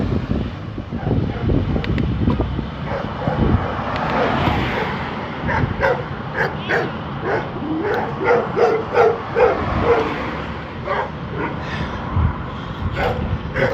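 Dogs barking and yipping on a mountainside during a long-distance bike race, the sharp barks coming in irregular bursts over heavy wind noise buffeting the microphone.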